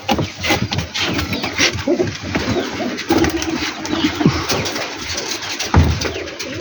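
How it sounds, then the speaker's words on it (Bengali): Several pigeons kept by a fancier coo and rustle close by, their low calls running over a constant busy background noise. "এর মধ্যে অনেক পায়রা আছে, এর মধ্যে আমি দেখাই।"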